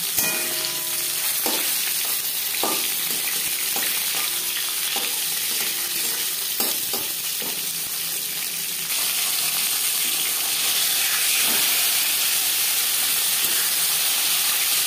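Marinated Bhola fish frying in refined oil in a pan, giving a loud, continuous sizzle and crackle close up. Occasional scrapes and clinks of a spatula come through, with no talking.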